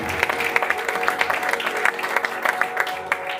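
A room of press conference attendees applauding the evening's organiser at a French event: scattered, moderately faint hand claps with distinct individual strikes, steady throughout.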